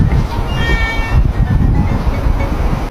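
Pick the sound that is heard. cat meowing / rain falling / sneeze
cat meowing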